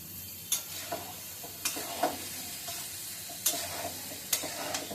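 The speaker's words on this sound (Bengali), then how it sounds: "ভালো করে একবার নেড়ে ছেড়ে ঢাকাটা দিয়ে দিই।" Curry being stirred in a pan on the stove: a handful of sharp, separate scrapes and clinks of a utensil against the pan, spaced irregularly over a quiet, steady sizzle.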